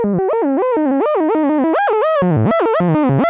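A Vermona Perfourmer Mk2 analog synth plays a sequence with its first oscillator's knobs set at random, giving a loud, distorted run of rapid, jumping bright notes without pause.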